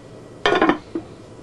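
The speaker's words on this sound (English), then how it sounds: "And I'm going to stir it and just kind of spin it." Chicken adobo being stirred in a cooking pot: a short burst of spoon scraping and clinking against the pot, followed by one lighter knock, close and fairly loud with no talking.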